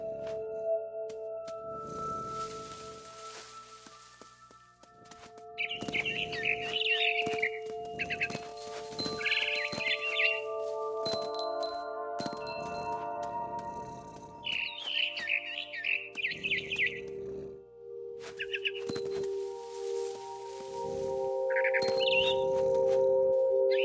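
Repeated barn swallow chirps and twittering bursts from the video game What Remains of Edith Finch, over a layered electronic backdrop with sustained tones, the calls coming in clusters.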